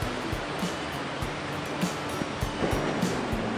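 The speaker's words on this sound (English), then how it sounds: "That's a little part of the rapids there." Rushing river rapids at Narin Falls, a steady broadband roar of churning water heard close and continuous with light wind buffeting, no talking.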